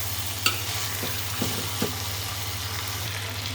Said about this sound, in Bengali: চালটা এখন আমি সুন্দর করে মিশিয়ে নেব। 2 মিনিট মতো সব কিছু কষালে আমার হয়ে যাবে।